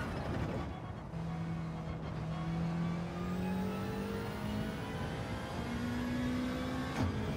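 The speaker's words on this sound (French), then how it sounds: "C'est pour ça que sur le circuit elle est monstrueuse." A car accelerates hard around the Red Bull Ring circuit, its engine note climbing through several gear changes in repeated rising sweeps, loud and close with no talking.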